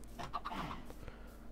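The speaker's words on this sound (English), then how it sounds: "We might have to find a better way of hosting our chickens" Chickens in the video game Minecraft give a few short, close clucks in a quick burst before fading into quiet background noise.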